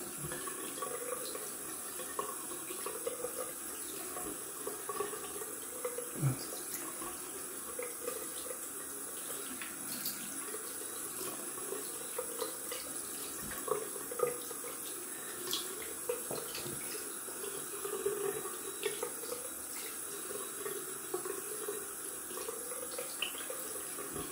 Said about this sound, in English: going down for a rinse